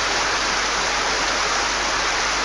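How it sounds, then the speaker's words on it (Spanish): Heavy rain pours in the video game Lullaby, a dense, steady, loud hiss of falling water that fills the whole moment with no break and no voices. "¿Cuándo para de llover así?"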